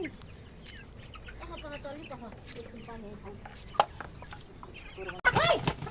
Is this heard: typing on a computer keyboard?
no